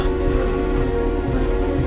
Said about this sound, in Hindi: कमरे में केवल बारिश और चुप्पी बची थी।